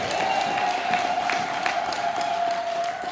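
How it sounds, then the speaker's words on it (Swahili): A church congregation at a Sunday worship service claps and cheers together, a dense, steady wash of applause filling the room from start to finish with a faint sustained tone beneath it. "Kama unaamini hivyo, mpe Bwana makofi"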